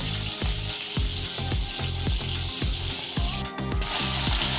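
A hilsa fish head fries in hot oil, giving a loud, continuous sizzle with a regular series of close, rhythmic scraping knocks and a brief dip near the end.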